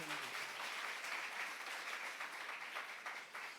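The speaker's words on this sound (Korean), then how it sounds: "믿는 사람아 박수 한번 하세요." A church congregation applauds together, a steady, fairly distant wash of clapping that holds evenly throughout with no talk over it.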